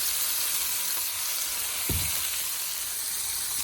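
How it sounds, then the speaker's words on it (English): Broccoli frying in a pan that also cooked chicken, giving a steady bright sizzle and hiss throughout with a brief low thump partway through. "We're gonna put the chicken aside and put in our broccoli. Everything in the same frying pan."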